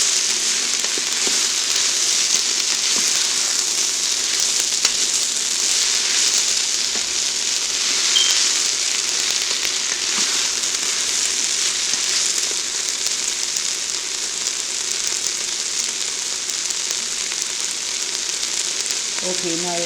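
A pot of spicy Asian-style seafood soup with ginger sizzles steadily, a dense close hiss held for the whole stretch, with occasional faint stirring clinks and no talk.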